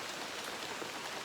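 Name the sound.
rain falling in Costa Rican cloud forest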